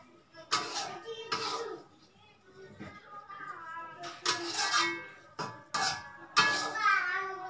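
Cooked orek tempe is scooped from a pan into a bowl, with a spoon clanking and scraping against cookware in sharp, scattered knocks while a voice talks throughout.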